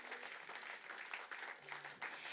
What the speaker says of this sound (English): Let's give a round of applause to them for throwing this wicked weekend.